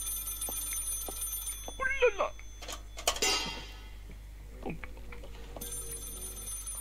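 A telephone rings in the Maid of Sker video game, a faint bell trilling through a quiet, hum-laden room, while a man briefly exclaims over it.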